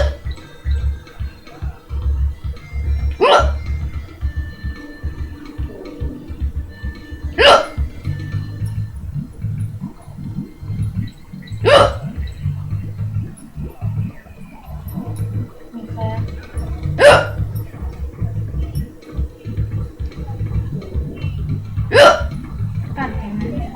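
A man hiccups five times at roughly four-second intervals, each a sharp, sudden gulp rising above ongoing background game sounds and chatter.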